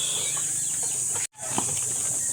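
Young chicks let loose in a small outdoor mini range, with a steady high chirping chorus and a few scattered clucks, close and continuous apart from a brief dropout.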